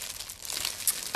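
A plastic bag stuffed with linen crinkles inside a Louis Vuitton Neverfull PM handbag: close, dry rustling with a few sharper crackles near the end.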